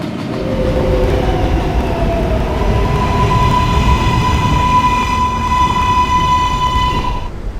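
A K subway train rides along the line with a loud, steady rumble and rail roar, close and constant. A sustained whining tone rises and holds through the middle as the train runs, and no one speaks.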